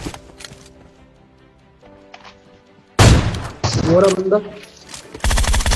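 Gunfire in the PUBG Mobile video game bursts out suddenly after a quiet stretch, loud sharp shots in quick succession with someone talking over them.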